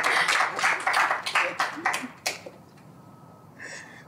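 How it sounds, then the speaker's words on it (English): Brief audience clapping for a reader at a workshop reading, a few bursts of hands that fade out after about two seconds, followed by quiet room tone and a faint tone near the end. "Let's give a warm applause."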